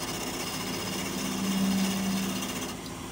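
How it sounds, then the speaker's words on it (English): A lathe set to about 1,000 RPM drills into a turned goblet stem, giving a steady, loud, buzzing machine whine with a brief higher grinding tone partway through. "and then we're going to drill it."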